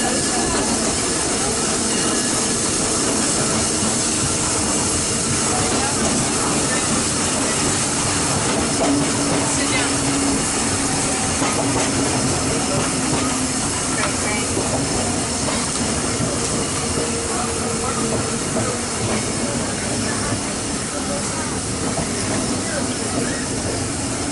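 A Disneyland Railroad steam train rumbles along steadily with a constant hiss and faint rhythmic clatter, loud and continuous throughout.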